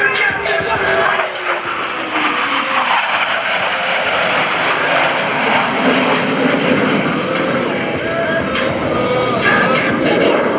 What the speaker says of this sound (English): Blue Angels 5 and 6 are approaching the flight line in a line abreast formation at 400 miles per hour.